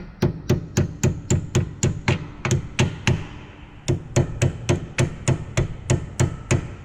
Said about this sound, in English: take a hammer and hit the back side of the pins